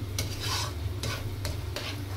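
Amla pickle cooking down in a pan while being stirred, with a steady low bubbling sizzle and several distinct scraping strokes of a spoon across the pan, close and without speech.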